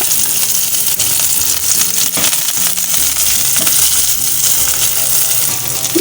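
Thinly sliced onion softens in a pan for vegetable barley soup, giving a steady, close sizzle with faint scraping and clinking throughout.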